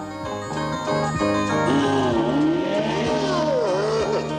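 A car engine revs and accelerates, its pitch rising and sweeping up and down steadily and loudly throughout, with music-like tonal layers and possible tire squeal mixed in.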